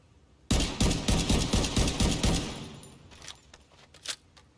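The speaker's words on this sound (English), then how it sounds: "I'm gonna see how fast I can drop him at 15 meters with this gun" A rifle in The Division 2 fires a quick string of sharp, evenly spaced shots at close range, then trails off into a few scattered later shots and faint clinks.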